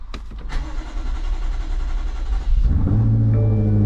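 A BMW M8 engine cranks for a couple of seconds, then catches and settles into a deep, steady idle rumble close by.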